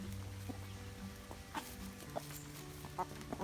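Several chickens cluck softly in a coop, with short scattered calls and low murmuring notes rising over a steady background hum, fairly quiet throughout.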